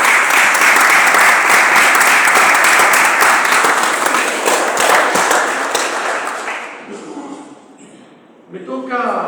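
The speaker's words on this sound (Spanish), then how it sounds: "Así que un aplauso grande para Carlos." Loud, sustained applause from a lecture audience, dense clapping that gradually thins out and fades near the end.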